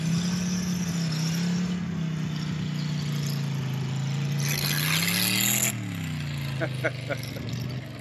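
A 327 Turbo Fire V8 in a bug out vehicle, idling low and rumbling close by, then revving up briefly before dropping back, with people talking over it.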